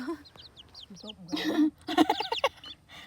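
Chickens cluck and chirp in short, scattered calls of moderate loudness, mixed with people talking close by.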